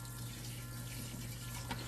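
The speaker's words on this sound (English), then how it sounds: "You're gonna wanna rinse your fish off really well." Lake Superior trout rinsed under cold running water in a kitchen sink: a steady, close rush from the tap, continuous and alone without talk.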